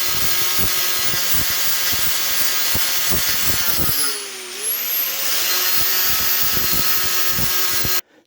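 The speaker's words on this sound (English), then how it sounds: "this is not a grinding wheel, this is a cutting wheel, but it's nice and soft, flexible" A power tool fitted with a soft, flexible cutting wheel runs steadily and loudly at close range in a garden setting, dipping briefly in pitch mid-cut as it loads up, then recovering before stopping abruptly.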